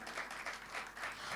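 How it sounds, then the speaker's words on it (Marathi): Faint, distant audience applause before a Hindi film song music program, a soft, steady wash of clapping throughout. "कार्यक्रम सुरू करण्यापूर्वी एकदा जोरदार टाळ्या आपल्या स्वतःसाठी होऊ द्यात"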